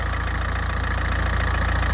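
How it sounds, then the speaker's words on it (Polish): A 1.7 CDTI diesel in an Opel Astra runs at a steady idle, close and even, with a continuous low rumble and a faint rhythmic clatter throughout. "Jest silnik. Jest silnik."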